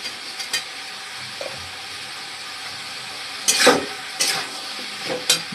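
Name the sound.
tomatoes sizzling as they are stirred in a frying pan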